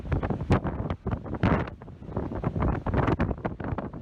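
Strong, gusty wind on a cold surf beach buffets the microphone in loud, irregular bursts and roaring swells, with no voices.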